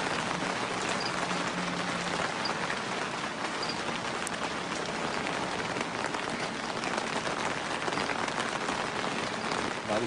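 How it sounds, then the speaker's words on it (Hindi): Heavy rain pours down in a dense, unbroken hiss, drumming steadily on surfaces throughout, with no speech heard. "बारिश तेज होती है।"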